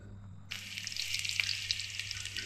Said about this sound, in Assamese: তেলখিনি গৰম হোৱাৰ পাছত ফালি লোৱা জলকীয়াকেইটা তেলত দি ল'ম